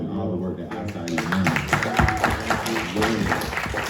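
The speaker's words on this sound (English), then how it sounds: "I want to give you a round of applause" Applause from a summit audience fills the room with dense, continuous clapping at a steady moderate level, and some crowd murmur runs through it.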